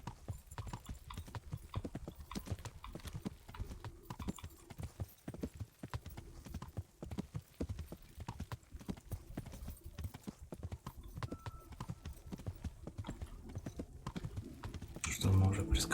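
A horse gallops in the medieval video game Kingdom Come: Deliverance, its hooves beating a rapid, steady clip-clop rhythm close by, with a voice talking over it.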